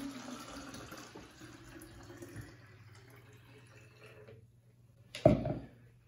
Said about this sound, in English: we start simply with 3 cups of hot water,